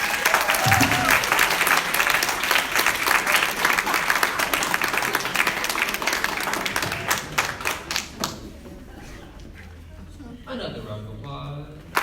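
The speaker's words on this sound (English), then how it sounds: "Another round of applause." Audience applause for a candidate at a youth leadership academy election, a dense steady wash of many hands clapping that thins out near the end, with voices mixed in.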